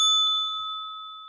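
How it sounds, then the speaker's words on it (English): A studio bell is struck once as applause, giving a single bright ding that rings on and slowly fades. "so we just ring the bell"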